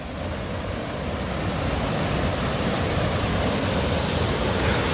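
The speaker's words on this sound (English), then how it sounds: "Wicked waterfall here." Waterfall beside a creek at the White Goat Wilderness boundary, a dense continuous rush of water heard up close, steady and loud with a slight swell over the few seconds.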